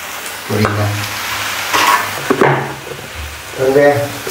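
Food fries and sizzles steadily in a pan for a Sri Lankan Tamil fish curry, with a loud, close crackle and stirring scrapes throughout, and short bursts of speech over it.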